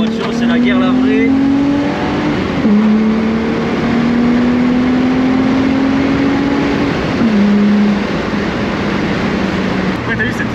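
A Volkswagen Corrado VR6 engine pulls hard and loud through the gears, its tone climbing steadily and dropping at each shift, with a constant roar filling the cabin.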